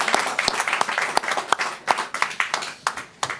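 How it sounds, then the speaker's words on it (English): Clapping from a modest audience greets André Kornichuk, with distinct individual claps in an uneven rhythm, fairly close and moderately loud. "A warm applause for André Kornichuk"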